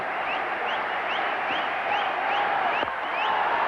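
A cricket crowd chants in anticipation as batsman Mohammad Azharuddin nears 150, a dense, continuous roar of many voices with recurring high whistle-like chirps riding over it throughout.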